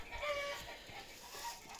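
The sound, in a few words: hens cackling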